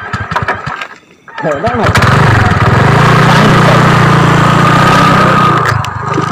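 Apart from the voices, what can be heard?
motorbike engine running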